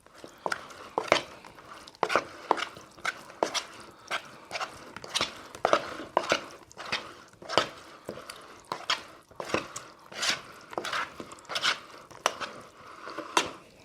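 Wet, squelching slaps and squishes of hands mixing shashlik marinade in a bowl, an irregular rhythm of soft close-up strokes.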